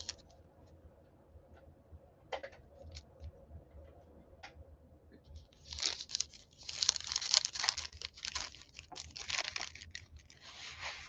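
A small tissue paper pocket is handled up close, starting with a few soft isolated rustles and then building into a dense run of crisp crinkling and crackling.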